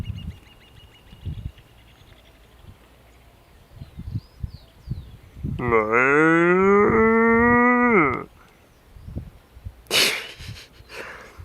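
A cow lets out one long, loud moo in the middle, rising then holding for about two seconds, with quieter rustling and breathy noises before and after.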